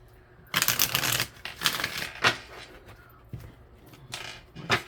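Tarot cards being shuffled by hand, several separate riffling bursts of papery flutter and slaps spaced over a few seconds, close and fairly loud with no talk over them.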